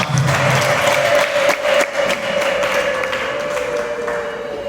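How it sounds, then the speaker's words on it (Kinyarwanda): Applause from an audience at a staged traditional Rwandan wedding ceremony put on by university students, a loud, dense burst of clapping that holds steady and slowly tapers over several seconds. "Mwamuhereye amashyi."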